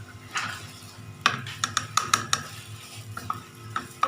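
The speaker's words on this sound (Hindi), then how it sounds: "अब हम इसके अंदर इन सारी चीज़ों को अच्छे तरीके से मिक्स करेंगे।" Spices and coriander powder being mixed in a cooking pot, with a run of sharp spoon-against-pot clinks and scrapes over a soft sizzle, close and fairly loud with no talk.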